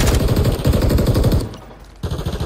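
Rapid automatic gunfire from Call of Duty Warzone 3, a dense stream of loud close shots that stops briefly and then resumes.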